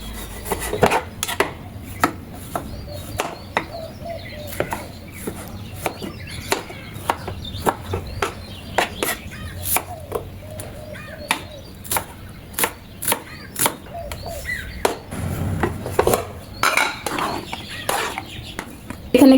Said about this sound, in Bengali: তো তার জন্য এখানে আমি টমেটো কেটে নেব, একটা টমেটো, একটা পেঁয়াজ।